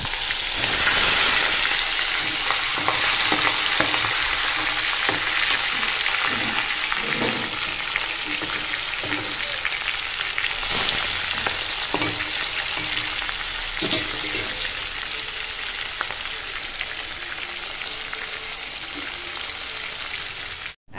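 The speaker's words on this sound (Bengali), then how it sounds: "তো আগে মাছগুলো ভেজে নিই" Fish fry in a pan, giving a steady, loud hiss and crackle that runs without a break and stays even throughout, with faint stirring clicks and no voices.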